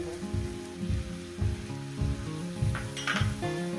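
Sliced onions sizzle and fry in two to three spoonfuls of hot oil in a pan for pumpkin bharta, a steady close crackle with rhythmic stirring scrapes throughout.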